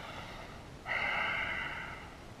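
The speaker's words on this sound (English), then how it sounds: "2 more breaths." One deep yoga breath during a beginner session, a strong airy exhale rushing out through the nose for about a second, close and clear against quiet room tone.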